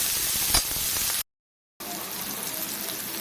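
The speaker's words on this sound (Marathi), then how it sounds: "हा कांदा आपल्याला तेलामध्ये चांगला भाजून घ्यायचा आहे" Finely chopped onion fries in hot oil in a spicy tempering for thin besan pithla, giving a close, steady sizzle that cuts out briefly before resuming.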